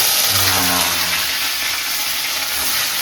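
Loud, close sizzling of onion and spices hitting hot oil, a dense hiss that carries on steadily throughout.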